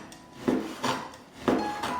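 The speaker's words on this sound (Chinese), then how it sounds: "我们来准备1块五花肉，把它切成片" A knife slices pork belly on a cutting board: a steady series of close, crisp cuts, each ending in a soft knock against the board, about two per second with no talking.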